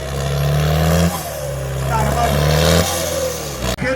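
Jugaad tractor engine roaring and revving under heavy load in a disc-pulling competition at Nurmahal, loud and close with sustained low rumble that drops and surges again, a commentator talking over it.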